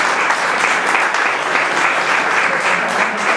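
Applause fills a cultural centre in Almendralejo, Extremadura, after a painters' event is introduced; the clapping is loud, close and evenly sustained for the whole span, with no speech over it.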